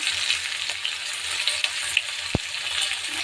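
Spices with chopped onion, green chilli, salt, turmeric and Kashmiri chilli powder fry in a pan, giving a steady close sizzle broken by a few soft stirring taps and one sharp knock.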